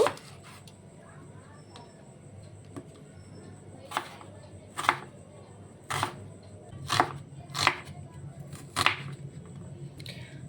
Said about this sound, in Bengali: পেঁয়াজটিকেও আমি সরু সরু করে কেটে নেব